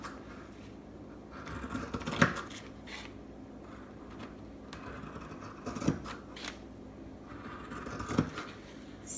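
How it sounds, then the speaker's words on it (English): Scissors snip through fabric, cutting out two bodices at once, a series of close, crisp crunching cuts recurring every few seconds amid quiet handling rustle. "Grab my scissors and let's get this cut out."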